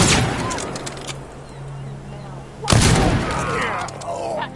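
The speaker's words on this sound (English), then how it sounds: "Gunshot!" Gunshots ring out in the video game Dishonored, with a sharp burst near the start and a heavier crack midway, over a steady, noisy game background.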